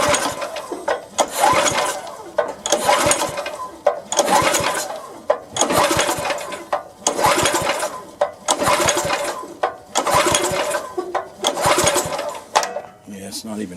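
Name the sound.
tiller engine being cranked, failing to start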